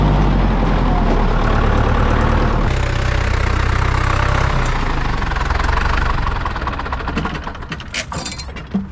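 Open-cab tractor engine running loudly near an agriturismo, a heavy steady rumble that shifts pitch partway through and then eases off, with a few clanks toward the end.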